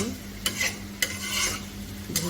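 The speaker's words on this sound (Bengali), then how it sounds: "পেঁয়াজ কুচিগুলো আমি ভালোভাবে ভেজে নেব" Chopped onions fry in a pan while being stirred, with a steady sizzle broken by three sharp scraping strokes of the spoon, close and fairly loud.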